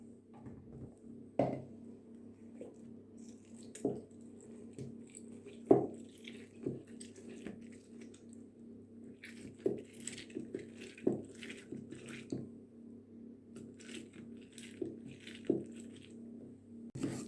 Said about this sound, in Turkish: Şimdi portakalların suyunu çıkartacağım.